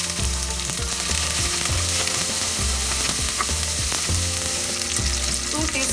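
Cumin seeds, black peppercorns and chopped red onion frying in a pan, a loud, dense, close sizzle with steady crackle and occasional stirring scrapes throughout.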